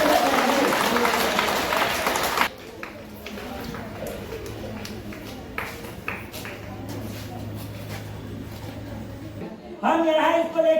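School crowd applauding and cheering during a children's running race at an international school, steady clapping and voices mixed with movement, loud bursts at the start and end with quieter crowd noise between.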